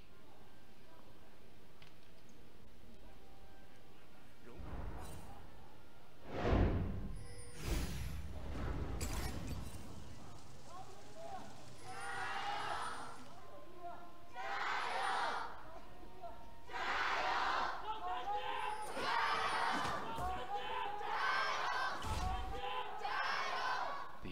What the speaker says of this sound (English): now it's time to hear from the crowd in Hangzhou as LGD take on Team WE